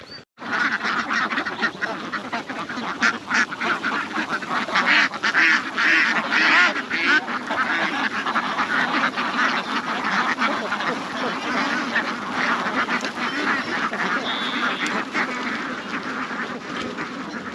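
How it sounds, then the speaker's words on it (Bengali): A large flock of farmed ducks quacking continuously, loud and close, a dense chorus of overlapping calls with no pauses. "এখানে কতগুলো হাঁস আছে"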